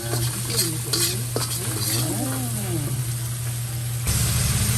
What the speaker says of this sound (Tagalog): Igisa lang muna natin siya.